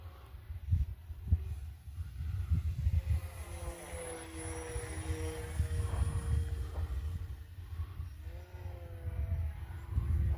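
A small foam board model airplane drones overhead, its propeller pitch rising and falling as it passes, fairly faint against outdoor background noise.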